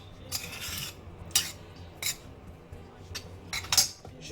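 A utensil stirs salt into attiéké, giving soft scraping and rubbing strokes in short bursts, with a few louder clinks against the bowl; close and fairly quiet, no talking.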